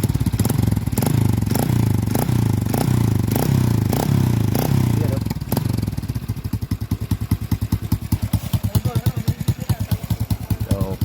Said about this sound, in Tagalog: Singaw lang ang tambutso niya.